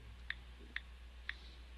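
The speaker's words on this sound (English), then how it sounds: "Oh yeah, I'm typing." Three sharp, evenly spaced clicks of a computer keyboard, each a single isolated keystroke, with a steady low hum underneath and no talking.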